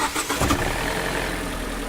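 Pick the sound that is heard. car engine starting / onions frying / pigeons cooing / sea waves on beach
car engine starting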